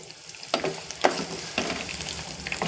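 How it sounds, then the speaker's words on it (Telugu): Lentils and spices tempering in hot oil in a pan, a soft continuous sizzle broken by a few scraping stirs, close and quiet, no voices. "తాలింపు బాగా వేగిపోయింది అదిగో చూసారా ఎర్రగా పప్పులైతే ఎర్రగా వచ్చేసాయి"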